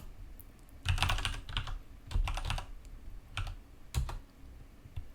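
Fingers type on a computer keyboard while coding, soft keystrokes arriving in short irregular bursts with brief pauses, close and alone.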